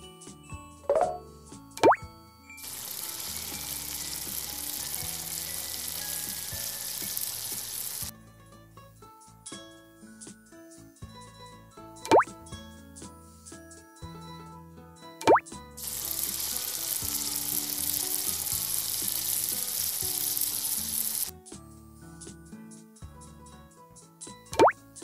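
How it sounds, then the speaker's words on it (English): Fast food frying in a cooking video game: two long bursts of bright, steady sizzle, each lasting several seconds, separated by short plops and clicks of game effects, with no talk. "Now, fry it."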